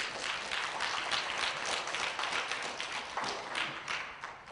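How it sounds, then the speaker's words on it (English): An audience at a talk claps in a steady, moderately quiet round of applause that continues throughout and fades slightly at the end. "Let's give him a round of applause."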